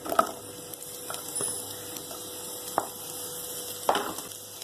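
Faint, steady sizzle of onions frying in oil in a kadai, punctuated by a few soft clinks of a utensil against the metal.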